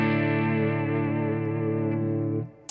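Electric guitar running through a Quad Cortex dual-amp preset blending a clean amp with a crunchy one: a single sustained chord rings loud with chorus-like shimmer, then fades and cuts off near the end.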